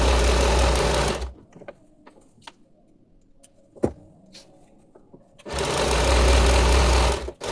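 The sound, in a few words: sewing machine stitching a salwar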